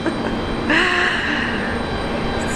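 A Singapore Airlines Airbus A350-900 touches down on runway 19 left at Brisbane Airport, heard as a steady, moderately loud jet roar with a brief swelling whine in the middle, no talk over it.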